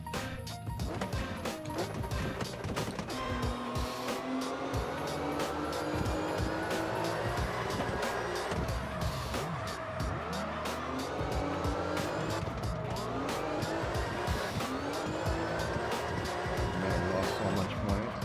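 Drifting in the CarX Drift Racing 2 video game brings a revving engine with shifting pitch and repeated tyre squeals and skids over about eighteen seconds, loud and continuous, with a voice partly mixed in.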